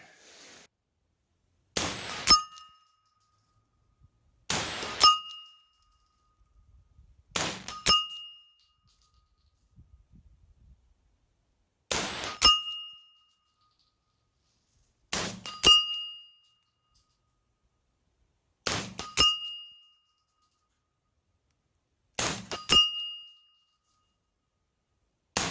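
A 10-inch steel gong target struck by rounds from a suppressed 9mm pistol with a SilencerCo Octane45, giving about eight sharp metallic pings spaced a few seconds apart, each with a bright ringing tail that fades into silence.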